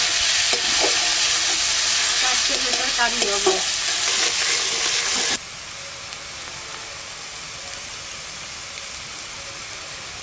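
Chopped onions sizzle loudly in hot oil with stirring scrapes for a cauliflower curry, a strong steady hiss that drops abruptly to a quieter simmer midway; a brief voice speaks early on.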